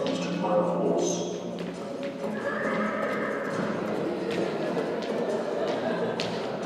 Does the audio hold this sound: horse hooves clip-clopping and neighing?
yes